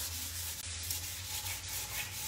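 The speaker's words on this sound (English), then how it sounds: "use your sandpaper to spread it around as well" Sandpaper rubs hemp finishing oil into a wooden surface, giving a soft, steady scratchy rubbing that is faint and close up and goes on without pause.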